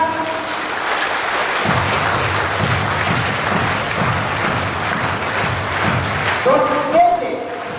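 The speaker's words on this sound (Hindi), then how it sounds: "जैसे मेरा 3 समाप्त तो आप तालियां बजाएंगे।" School prize ceremony audience bursting into applause after a one-two-three countdown, dense steady clapping like rain that carries on for several seconds, loud and filling the room, with faint voices in the crowd.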